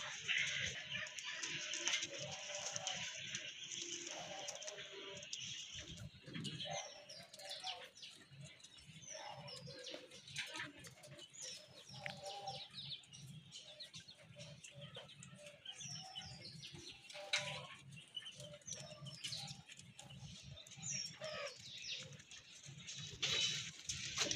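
Chuina pigeons in a breeding loft give soft low cooing with scattered chirps and light flutters, faint and ongoing against a quiet background.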